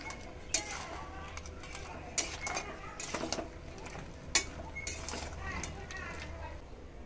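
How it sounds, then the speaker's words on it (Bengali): A spoon scrapes and clinks against a pan as crab curry with turmeric, ginger and mustard paste is stirred and sautéed, sharp metallic taps standing out over a quiet steady sizzle. "খুব ভালো করে কষিয়ে নেবো আবারও।"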